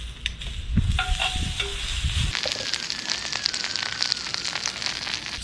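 Shishito peppers blistering in a hot skillet sizzle and crackle steadily, with some knocks and shuffling of the pan early on before the frying hiss settles into a dense, close, continuous spatter.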